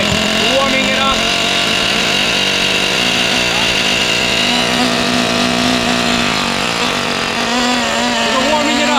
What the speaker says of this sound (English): We need to get a little of that oil out to warm up the engine.